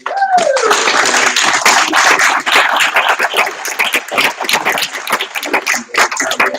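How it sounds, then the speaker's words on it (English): Hearty round of applause from an audience at a July 2019 NVTC Commission meeting, dense continuous clapping that stays loud throughout, with a few voices mixed in. "can we have a round of applause for the new WMATA?"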